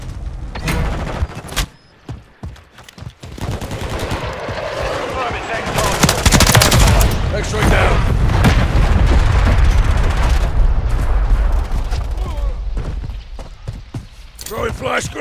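Explosions and gunfire in the video game Modern Warfare 3, on the Dust to Dust map, with a grenade toss: sustained loud blasts and rapid firing build through the middle, mixed with voice callouts.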